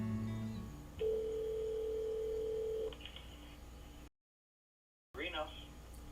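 Phone call to a plant nursery: a steady dial tone and quick dialing beeps, then a brief silence before the line connects, with a voice heard near the beginning.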